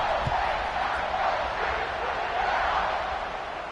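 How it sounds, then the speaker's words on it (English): A large crowd at a Purdue versus Ohio State college football game makes a dense, sustained roar that fills the stadium after a score and eases slightly toward the end. "this crowd is buzzing after that last score"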